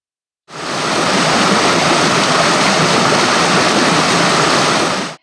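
The Saray waterfall and its stream pour through forest near Başdeğirmenler in Azdavay, Kastamonu, making a loud, steady, unbroken rush of falling water that fills the whole scene with no voices.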